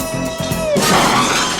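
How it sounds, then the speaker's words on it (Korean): A loud shattering crash as robbers smash up a workshop in a robot comedy film, a sudden burst of breaking debris after a brief thud and rising whine, ringing out alone. "강도들은 작업실을 박살낸 후 유유히 떠납니다."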